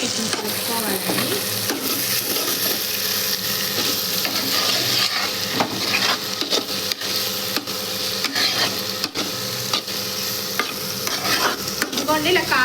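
Brinjal curry with chili powder and coriander powder is stirred in a frying pan, a loud continuous sizzle broken by repeated clicking scrapes of a spoon against the pan.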